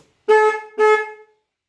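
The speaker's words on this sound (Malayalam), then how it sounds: "ഹോൺ അടിക്കുന്നുണ്ട്" A Hero motorcycle's electric horn gives two short, bright toots close by in a quiet setting.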